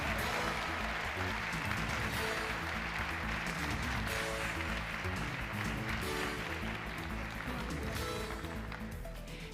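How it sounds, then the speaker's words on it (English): Audience applauding award-winning photographers at a professional photography award and degree ceremony, a steady wash of clapping heard faintly under a sustained musical backdrop with low tonal hum throughout. "Please join us in giving these outstanding photographers a round of applause."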